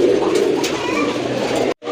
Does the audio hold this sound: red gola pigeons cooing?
yes